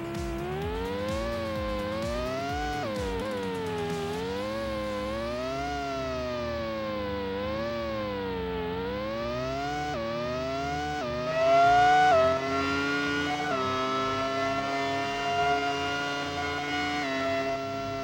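Formula One car engines racing through Monaco in the N64 game F1 Racing Championship, a continuous high-pitched whine sweeping up and down with gear changes, loud and steady throughout.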